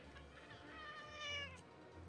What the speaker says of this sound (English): This cat is just running amok, walking on my keyboard.